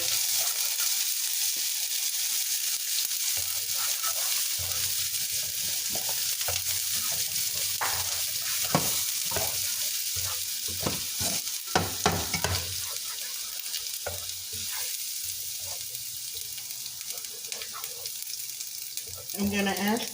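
Lemongrass and tofu stir-fry in a hot pan, a constant loud sizzle broken by scraping and clattering of a utensil stirring, with a brief voice near the end.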